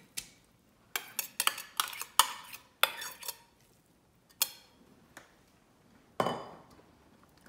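Onion poured into a 3.5-litre pot with a little oil, heard as a series of sharp clinks and clatters of pieces and utensil against the pot, spaced irregularly with quiet gaps between.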